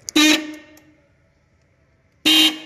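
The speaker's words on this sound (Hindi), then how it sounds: "तो अब वहाँ पे हॉर्न लगाइए वो।" Vehicle horn wired through a relay blares twice, two loud, close honks each about a quarter second long, separated by roughly two seconds of near silence.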